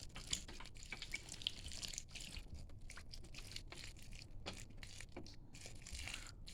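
Soil is layered over seeds laid out in a garden bed and then watered, producing quiet crunchy crackles and soft drips at close range with no voices.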